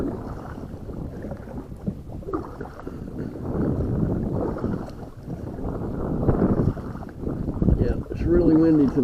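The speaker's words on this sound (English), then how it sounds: "it's really windy today, really windy" Strong wind rushes over open water around a small paddled boat near a grassy trapping area, a continuous loud buffeting roar that swells and dips throughout.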